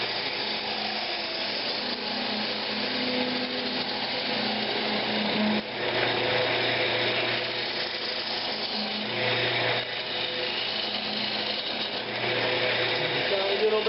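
Power tool hollowing out the inside of a wooden workpiece, a steady whirring grind with shifting pitch and a few brief dips, running continuously at moderate level.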